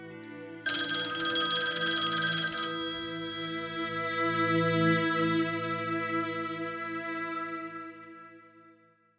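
A telephone rings in a loud, close, sustained electronic tone. A bright buzzy burst at the start fades to a steady ringing that slowly dies away, with no voices.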